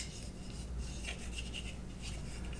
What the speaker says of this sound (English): Rub down the buffer tube.